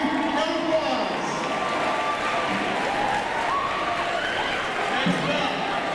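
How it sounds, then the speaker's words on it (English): A high school pep rally crowd claps and cheers in a gym for the marching band, a sustained, even round of applause with shouts and voices mixed in throughout. "Let's give a big round of applause."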